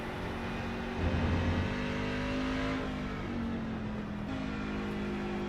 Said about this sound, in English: You can hear him shift down to 3rd right there.